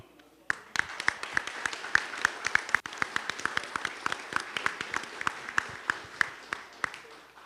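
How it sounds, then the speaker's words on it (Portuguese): A small group at a workers' congress, the Unicamp workers' congress plenary, gives a round of applause, with sharp distinct claps in a fairly regular rhythm, close and clear, running steadily for several seconds. "a gente desse uma salva de palmas simbólica para que isso fosse resolvido logo"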